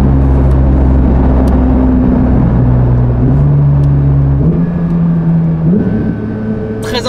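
Porsche 992 GT3 exhaust in normal mode with valves closed, a loud steady engine drone that shifts pitch in stepped stages as the revs change, close up with no voices.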